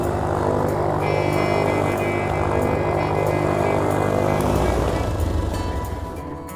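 A small propeller aircraft arrives at Hobart-Cambridge Airport, its engine a steady droning hum with a whining propeller tone, loud and close throughout, easing slightly toward the end.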